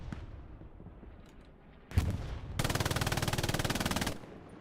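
A machine gun fires from a rooftop MG position above the Carentan train station in Hell Let Loose. After a sharp crack, one long, rapid, evenly spaced burst sounds close and loud, then cuts off.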